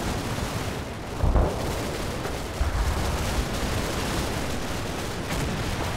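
Dense, continuous gunfire and heavy thudding from a Combat Mission: Battle for Normandy battle, a steady roar of shots with a couple of louder booms and no voices.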